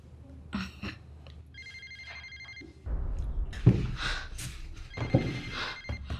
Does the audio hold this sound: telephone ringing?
yes